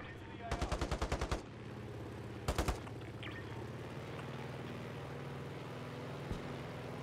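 An M4A1 rifle fires in the video game Warzone as two close, rapid automatic bursts, the first around eight rounds and the second shorter, over a steady low background hum.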